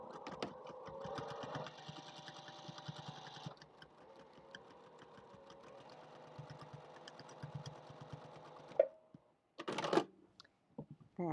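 Sewing machine stitching straight quilting lines across a mug rug, a steady close whir running in long bursts with brief pauses and a few louder handling clunks near the end.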